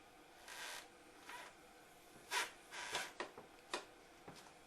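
A knife is worked across an Arashiyama whetstone with very light pressure to remove the burr, producing faint, irregular rasping strokes, some short and some longer, in a quiet room.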